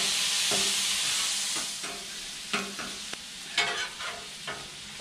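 Cheesesteak meat chopped and stirred on a hot griddle, a steady loud sizzle broken by several sharp scraping clacks of the spatula, with no voices.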